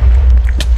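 A single loud, deep boom from an explosion in the Minecraft Bed Wars game, heavy and sustained through the short moment with a brief crackle near its end.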